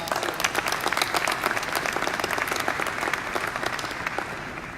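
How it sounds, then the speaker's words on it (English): Sustained applause from a tech conference audience clapping for event sponsors, dense and steady throughout at close range with no talk. "Let's give them a big applause."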